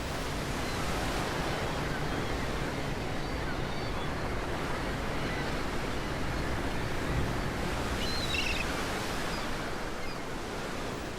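Wild open sea around a ship in the sub-Antarctic Southern Ocean, a steady loud wash of surf and wind noise with no break, broadband and continuous throughout.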